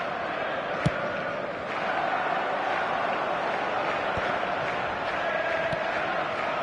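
A stadium crowd in the eFootball video game keeps up a steady, even roar throughout, with one sharp thud near the start.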